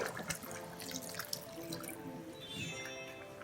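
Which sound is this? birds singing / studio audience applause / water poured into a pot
water poured into a pot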